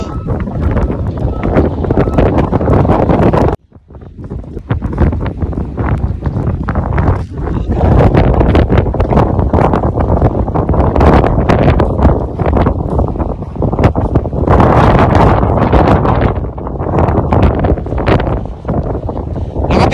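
Strong, roaring wind of about 98 km/h in a Canadian snowstorm with little snow buffets the microphone continuously, with gusts rising and falling and one brief lull early on.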